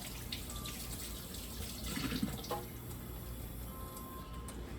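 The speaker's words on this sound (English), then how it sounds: "The sink. Wash my hands." Water runs steadily into a sink during handwashing, a faint, continuous trickle with light splashes and a drip or two, heard close and quiet.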